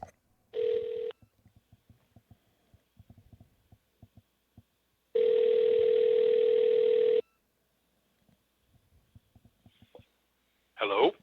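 Telephone tone while calling Brad and Sarah: a short steady tone, then a clear two-second unbroken tone, with faint clicks and taps between them and a brief noise at the end.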